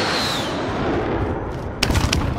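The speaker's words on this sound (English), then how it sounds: "There's a fucking airstrike called right on my head" A video game airstrike lands overhead: a loud, continuous roar of blasts and rumble, with a sharper cluster of explosive cracks breaking through near the end.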